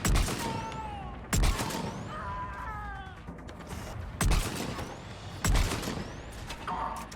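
Gunfire in the video game Mass Effect 3: four loud, sharp shots spaced a second or more apart, with whining electronic tones and game sounds filling the gaps.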